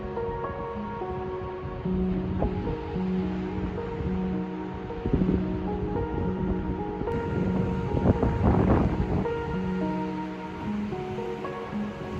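Ocean surf along a coastal hiking path washes steadily for twelve seconds under gusty wind buffeting the microphone, with a faint tonal hum running in the background.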